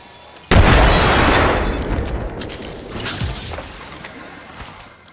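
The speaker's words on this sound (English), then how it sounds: "Look out, grenade!" A grenade detonates in a squad-based shooter video game, a loud sudden boom with a sharp onset that rolls into a long, decaying rumble of debris and echo lasting several seconds, with no talk over it.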